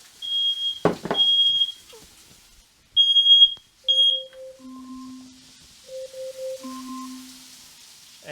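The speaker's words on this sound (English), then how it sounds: "while that smoke detector was going off" A smoke alarm beeps in piercing high bursts in a kitchen, then a series of lower electronic tones follow in a stepped pattern, close and loud.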